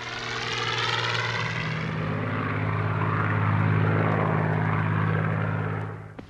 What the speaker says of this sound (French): Il est bientôt remplacé par le fameux Spitfire, que le pilote d'essai Jeffrey Quill présente à Churchill.